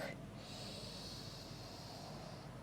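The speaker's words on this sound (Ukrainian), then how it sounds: "Видих вдих через ніс поступово, не поспішаючи видих," Nasal breathing during a flat-belly exercise, a single steady airy breath through the nose drawn out over a couple of seconds, faint and close against a low background hiss.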